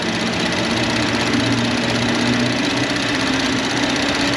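Car engine idling in an auto repair shop, a steady continuous hum and rattle with a faint low tone throughout, loud and close with no talk.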